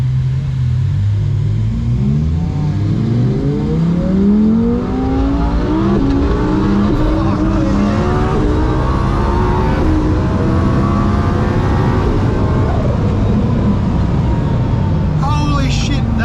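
2000-horsepower twin-turbo Lamborghini accelerating hard on low boost, engine pitch climbing through repeated gear pulls with a heavy rumble and wind roar, loud and close from inside the car, a voice briefly over it.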